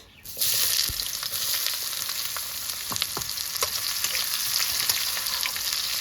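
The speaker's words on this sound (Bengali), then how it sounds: "পেঁয়াজটা আমি লাল করে ভেজে নেবো" Onions frying in a pan with bay leaf and cumin, a loud steady sizzle that starts abruptly and keeps crackling with small pops throughout, close by and with no talking.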